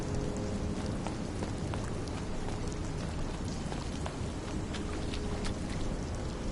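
Steady rain pours in the We Happy Few video game, a dense, even hiss of drops on hard surfaces with scattered louder splats and a low rumbling bed, continuous and close throughout.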